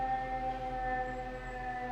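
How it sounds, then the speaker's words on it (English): A fire engine siren wails steadily outside an open window, loud and close, its sustained tones holding through the whole stretch with traffic rumble underneath. "Siren is on my end."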